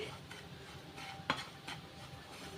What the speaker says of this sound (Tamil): ரவையை இப்படி நெய்யிலே வறுத்தோன்னா நமக்கு வந்து உதிரியாக இருக்கும் கேசரி